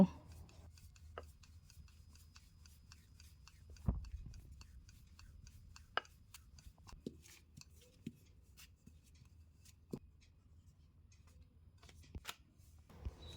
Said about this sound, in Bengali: একটা লেচি নিয়ে ময়দা দিয়ে এইভাবে গোল করে পরাটা বেলে নেব